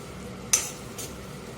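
Masala spices frying in oil for a mutton curry, a low steady sizzle with two quick scrapes of a spoon against the pan, the first louder than the second.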